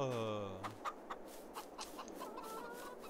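Farm chickens in the Farming Simulator 22 video game cluck in a steady run of short, close calls, with a quiet ambient bed behind them and a soft voice talking at times.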